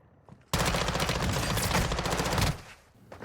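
Automatic gunfire in a DMZ player-versus-player fight in Call of Duty, a loud, rapid burst of shots lasting about two seconds, close and dense, then tailing off into quieter sounds.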